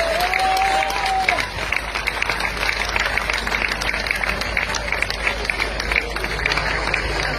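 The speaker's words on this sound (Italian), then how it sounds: "un grandissimo applauso" An outdoor piazza crowd at a political rally applauds Giorgia Meloni, loud continuous clapping and cheering with a voice briefly heard over it at the start.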